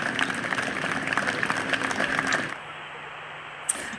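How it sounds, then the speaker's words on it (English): Paramedics and other healthcare workers outside Leeds General Infirmary clap for colleagues, a crackly spread of many hands that stops abruptly about halfway, leaving quiet ambience and one sharp click. "including these paramedics and other healthcare workers applauding colleagues outside Leeds General Infirmary"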